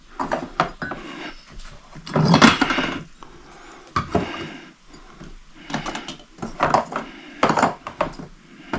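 Metal carbide lantern pieces from metal detecting finds are handled and pulled out one by one, giving irregular clinks, rattles and knocks close by, with a few louder clattering bursts between short pauses.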